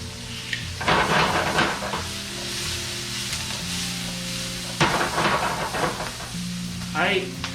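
Garlic blossoms and scapes fry in a pan with a steady loud sizzle, punctuated by a few bursts of stirring and utensil scraping near the pan.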